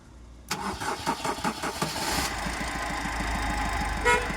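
A Maruti Suzuki car with a fault code cranks briefly and fires up, then settles into a steady idle, close and moderately loud, with a short horn-like toot near the end.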